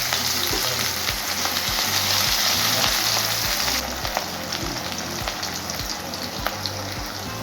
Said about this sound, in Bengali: পেঁয়াজগুলো একটু ভাজা ভাজা হয়ে গেছে।